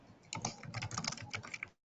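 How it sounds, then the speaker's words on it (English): Rapid, irregular clicking of keys on a computer keyboard close to an open microphone, a steady burst of typing lasting under two seconds, fairly quiet, with no talking. "It sounds like somebody's unmuted and typing quite near a microphone."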